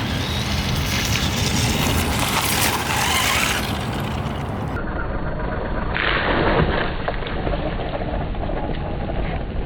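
An Arrma Gorgon RC truck on its first run at an RC track, its electric motor whining loudly and steadily with tyres scuffing and skidding over dirt, a brief lull midway before the drive picks up again.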